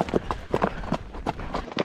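Horse hooves clip-clop in a steady, brisk rhythm during a ride, close and fairly loud, with faint breathing and tack noise between the footfalls.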